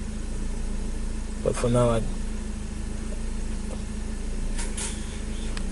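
A 2012 Nissan Versa with engine coolant temperature sensor faults idles steadily up close for the whole stretch, with a short burst of speech over the engine rumble.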